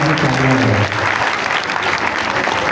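A classroom audience claps together, dense close applause that runs steadily through the clip, briefly overlapped by a voice at the start.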